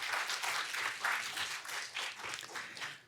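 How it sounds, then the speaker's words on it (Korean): A small group of trainees at a teaching contest applauds in a modest, slightly uneven burst of clapping that swells and eases over a few seconds, close and moderately soft. "교육생들 박수 한번 부탁드리겠습니다"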